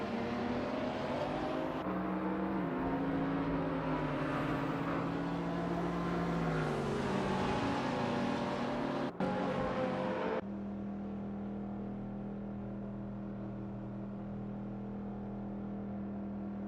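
Race cars circling in a video game race, a loud steady engine drone whose pitch rises and falls with gear changes and then drops to a lower, even hum, with no talk.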